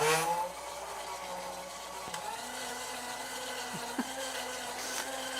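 A kitchen blender whirs steadily at fairly low level for several seconds, its motor tone holding a continuous hum with small pitch shifts and a couple of faint clicks.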